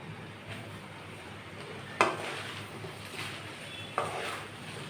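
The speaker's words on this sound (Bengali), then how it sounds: "এবার ভালোভাবে এপিট ওপিট নেড়ে চেড়ে মিশিয়ে নিচ্ছি, চুলার আঁচটা মিডিয়ামে রেখে।" Chowmein noodles are stirred and tossed in a pan over medium heat, with a faint scraping background broken by two sharp utensil knocks against the pan.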